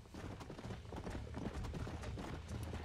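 In the Red Dead Redemption video game, horse hooves clip-clop in a quick, steady gallop, faint and continuous across the whole moment, with no talking.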